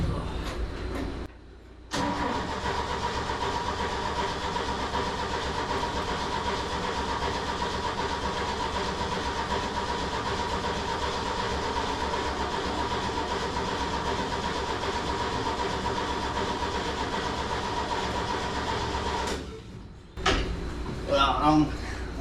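An old engine with a flooding carburetor cranks steadily and at length without catching, a continuous rhythmic churning drone, with brief silences near the start and end and a faint clank afterward.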